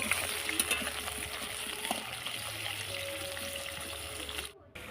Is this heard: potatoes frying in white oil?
yes